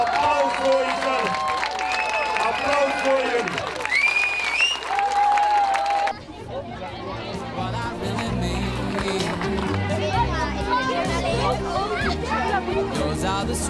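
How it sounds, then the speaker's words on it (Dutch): Applause from a crowd at a Glazen Huis charity event in Zeeland, mixed with cheering voices and chatter, then giving way to music with people talking over it. "Applaus voor jezelf."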